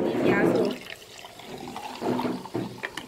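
Fizzy soda poured over ice into a glass while making a blue lime juice drink, giving a loud gushing, bubbling rush that fades after a second into quieter fizzing, with a voice talking nearby.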